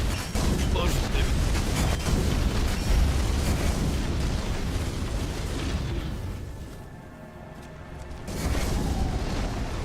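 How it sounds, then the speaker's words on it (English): Loud, continuous booming explosions and blasts from the fantasy game Tainted Grail rumble for most of the stretch, briefly dipping near the end before surging again, with a voice talking over the chaos. "Explosions"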